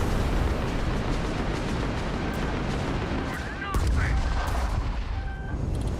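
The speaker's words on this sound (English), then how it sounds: "Enemy missiles." Enemy missiles striking in Starfield, a dense barrage of blasts and booming impacts rolling continuously over several seconds, loud and close, with a sharper burst in the middle.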